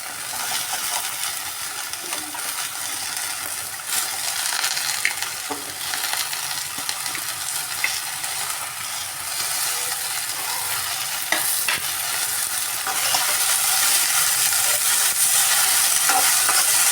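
Okra, Malabar spinach and potato frying in a pan, steady sizzle with repeated scraping and clinking stirs of a utensil against the pan, the hiss growing louder toward the end.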